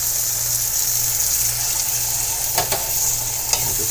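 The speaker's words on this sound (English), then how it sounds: "Now we're going to add in our can of diced tomatoes." Canned diced tomatoes go into a sizzling pan for shakshuka, bringing a loud steady hiss with a low hum beneath and a few quick splashy clatters near the end.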